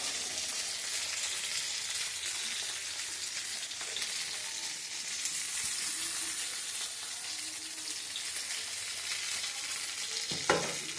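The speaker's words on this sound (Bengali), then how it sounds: "এই পেঁয়াজগুলো আমি গরম তেলের মধ্যে দিলাম।" Chopped onions fry in hot oil in a wok, a steady close hiss and crackle of sizzling running without a break, with a brief scrape of stirring near the end and no voices.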